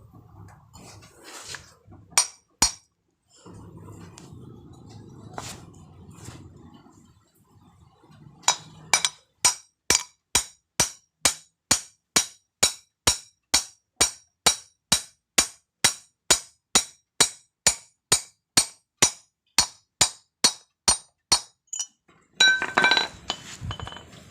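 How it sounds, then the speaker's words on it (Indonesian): A hammer taps a valve seat insert gently into place, striking metal with about thirty evenly spaced, bright clinks in a steady rhythm. Scattered handling noise comes before the taps, and a short rattle follows them. "Pemukulan secara berlahan ya, jangan terlalu kuat karena dapat mengakibatkan botol itu, bos katup ini akan pecah."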